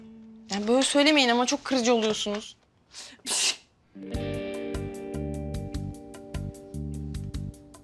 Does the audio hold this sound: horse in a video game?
no